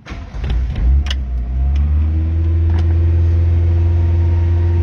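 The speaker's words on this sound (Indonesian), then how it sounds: "Kita langsung aja cek kondisi mesinnya." A Toyota Starlet with a 1300 cc engine turns over and settles into a loud steady idle, starting with a few clanks and a brief rumble before a constant low hum.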